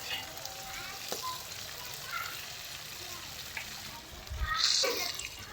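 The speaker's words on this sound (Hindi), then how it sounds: "इन तमाम चीज़ों को हमने मिक्स करके टमाटर के गलने तक हम पकाएंगे" Tomatoes cooking in a pan with red chilli powder and salt give a soft, steady sizzle, with occasional stirring scrapes and a brief louder splash of frying near the end.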